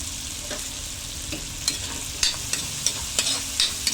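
Onion and garlic sauté with tomato sauce in a pan for menudo, a steady close sizzle with a few sharp stirring scrapes and clinks spread across the last half.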